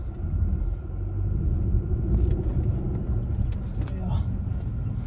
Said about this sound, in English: Now we're going to pull this car out.